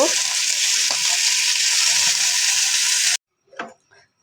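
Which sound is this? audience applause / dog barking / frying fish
frying fish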